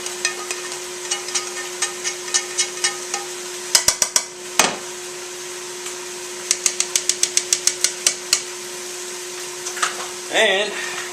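Spaghetti being stirred and mixed with turkey, clusters of quick scraping clicks from the utensil in bursts over a steady hum, with a brief rustle near the end.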